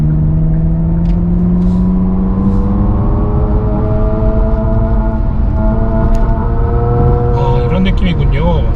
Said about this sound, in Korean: 스포츠 모드로 전환을 시켜 놓겠습니다. 네, 추월 가속을 한번 잠깐 해볼게요.